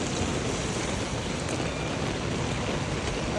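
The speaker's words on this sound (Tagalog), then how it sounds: "lakas ng ulan." Heavy morning rain pours down steadily on someone walking home after buying pandesal, a dense, unbroken hiss that stays loud and even throughout, with no voices.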